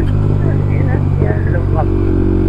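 Motorcycle engine revving loudly up close on a hilly ride, a steady mid-pitched drone with rises in pitch, with people talking over it.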